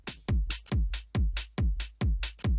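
Soloed hi-hat sample in a modern UK garage drum track, with sharp bright hits repeating in a quick swung pattern. Each hit has a short decaying body, and nothing else plays.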